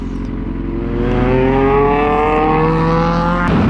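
A Yamaha R6 sport motorcycle engine revs loudly and up close on a highway ride, its pitch climbing smoothly in a sustained high-rpm whine before dropping off near the end.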